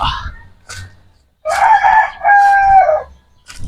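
Farm-raised fighting cocks crow loudly up close, one long drawn-out cock-a-doodle-doo after a few short clucks and calls, with faint background noise between.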